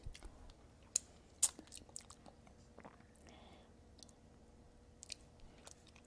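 Quiet chewing and biting on a bite of gluten-free, lower-sugar pumpkin pie sweetened with maple syrup, soft irregular mouth sounds with a few sharper clicks, close up and without talk.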